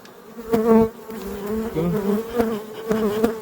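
A honeybee colony hums steadily inside an apiary hive as it begins building new comb, a dense close buzzing with wavering pitch and brief louder swells, no voices.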